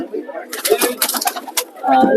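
Soft, low pigeon coos come in short bursts, with brighter fluttery rustling in between; a second coo rises near the end.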